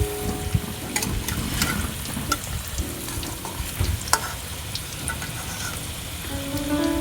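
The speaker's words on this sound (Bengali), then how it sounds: "আলু ভালো করে লাল লাল করে ভেজে নিয়েছি" Potatoes fry in hot oil, a close, steady crackling sizzle with sharp pops and occasional stirring clatter, no talking.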